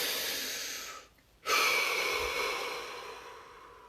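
One slow, deep breath, first a long breathy exhale, then a short pause, then a strong, close inhale that fades out gradually.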